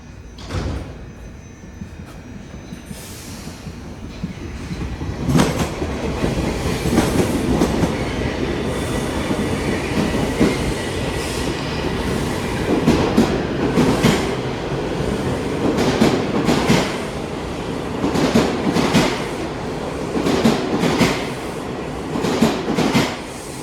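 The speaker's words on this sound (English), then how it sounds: "Southbound train's gonna be coming in now." A southbound Toronto TTC subway train rumbles loudly into Rosedale Station, wheels clattering over the rails and brakes hissing in a constant roar nearby.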